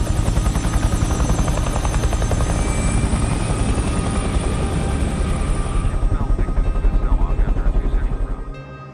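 A helicopter's rotor beats steadily, loud and close, a continuous thudding chop that quickens slightly near the end before fading.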